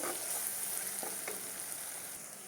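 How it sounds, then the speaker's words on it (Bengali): Pomfret curry spices with chili powder fry in a pan, making a steady, moderately quiet sizzle with a couple of brief stirring scrapes. "এই লঙ্কা গুঁড়া একটু দিয়ে দিলাম, এটা এবারে হালকা করে একটু কষিয়ে নেব"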